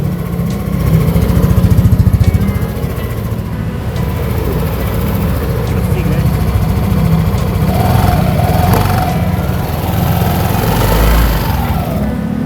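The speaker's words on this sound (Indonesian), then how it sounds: "Mesinnya halus kalau kalian dengerin lewat sini" A Yamaha Aerox scooter engine idles smoothly and steadily at close range, a continuous even running note with a slight rise in the middle, heard on its own without talk.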